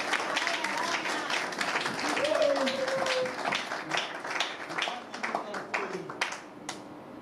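An audience at a public gathering applauds after a doctor is named, a sustained wash of clapping under a speaking voice that carries through most of the stretch.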